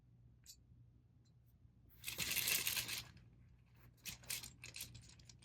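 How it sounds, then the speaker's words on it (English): Scrabble tiles clatter and rattle inside a cloth bag as a hand digs for new pieces: a loud dense burst of clicking for about a second, then several shorter, lighter clacks, with no talking. "I need to start by picking 4 new tiles from the bag"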